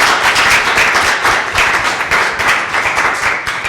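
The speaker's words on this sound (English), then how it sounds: "I would like to have all of us give a big round of applause to our wonderful" An audience at a career panel on environment and sustainability applauds the panelists, a dense, steady wash of many hands clapping close by, with no voices over it.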